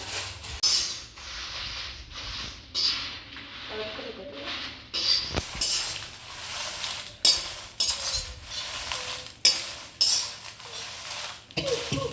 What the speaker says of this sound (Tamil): கடைசியில் நம்ம வரமிளகாய் வந்து வறுத்து எடுத்துக்கலாம்.